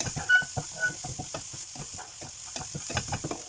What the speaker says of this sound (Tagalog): Igisa lang natin siya hanggang sa mag-brown.